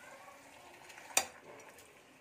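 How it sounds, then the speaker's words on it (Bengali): Meat being stirred and sautéed in a pot while cooking liver kosha for biryani, with a soft continuous sizzle and one sharp scrape or clink of the spoon against the pot. "এই যে ভালো করে আমি নাড়ি কষিয়ে নিচ্ছি আর কি।"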